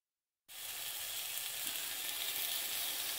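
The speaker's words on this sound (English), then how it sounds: "So we're going to fry up this frozen bacon" Frozen bacon strips frying in a pan, a steady loud sizzle that starts abruptly and holds an even crackling hiss throughout, with no voices.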